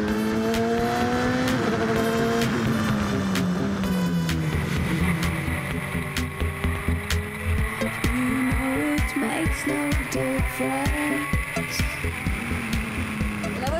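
A car fitted with a motorcycle engine revving to 10,000 rpm screams as it accelerates hard, pitch climbing through gear changes, then settling into a rapid throbbing drone.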